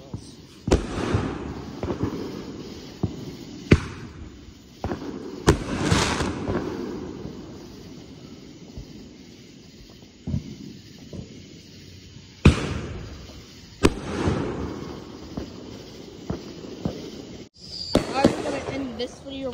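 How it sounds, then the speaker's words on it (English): Repeated Independence Day fireworks explosions, sharp booms with crackling tails spaced a few seconds apart, over a faint background murmur of talk. "They're loud, but they're not as scary as fire drills."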